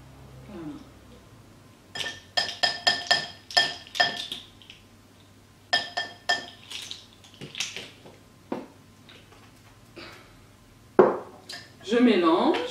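A spoon clinks against a glass bowl while mixing a cosmetic hair mask with Maca Vital powder, making rapid rhythmic clinks in bursts, with quieter scraping between them.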